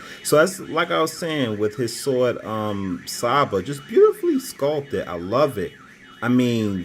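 A car alarm sounds somewhere outside a room, faint and cycling in the background. Someone talks steadily over it and nearly drowns it out.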